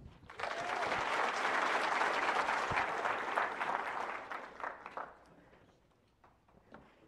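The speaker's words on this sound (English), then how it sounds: "Let's give him a round of applause." An audience at a university physics slam claps for several seconds, a dense burst of applause that fades out, leaving a few scattered claps and quiet room noise.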